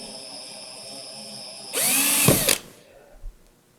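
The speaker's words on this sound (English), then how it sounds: "I move again and drill the second 1/4 inch hole" Power drill boring a 1/4 inch hole into a wooden Native American style flute: a short loud whirring burst of about a second after quiet, then spinning down, with a couple of faint knocks afterward.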